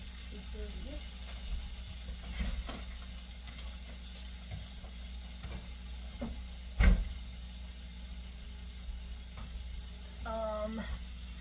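Green bell peppers frying in a pan, a faint continuous sizzle with scattered scrapes from stirring, one sharp knock partway through and brief voice traces near the start and end.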